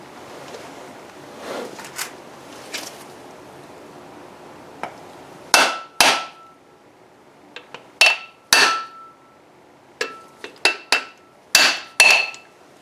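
A seal driver is hammered to drive a new wheel bearing seal on a Camaro IROC-Z: metal taps and sharp hammer strikes ring out close by, starting light and sparse, then several harder blows in irregular succession.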